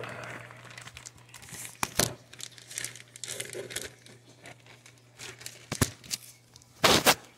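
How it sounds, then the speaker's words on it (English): Crappie fillets are shaken in an old, worn Ziploc bag with batter, giving bursts of loud plastic crinkling and rustling with several sharper rattling shakes, nearby and without talk. "this Ziploc bag's kind of messed up. It's an old one. And once you got it all in there, you want to just give it a good shake"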